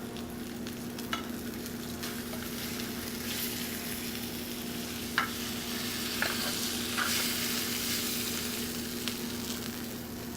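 Asparagus sizzles and fries in a hot pan, a steady crackling hiss with occasional sharp pops and stirring scrapes, close and continuous, with no speech.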